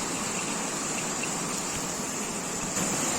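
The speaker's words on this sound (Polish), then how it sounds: "Jest tak, taki nawalny opad deszczu" Heavy downpour during a violent thunderstorm in Kunów, with the road flooded by rain. A steady, dense hiss of rainfall continues without a break, close and even throughout, with no talking.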